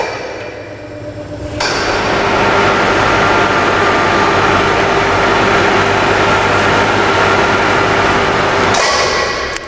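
Stainless steel overhead drum dispenser hoisting a secured drum: a sharp clank, then a loud, steady motor drone with mechanical hum running for several seconds before cutting off with another clank.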